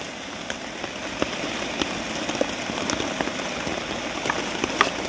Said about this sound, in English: Well, the rain's just coming in.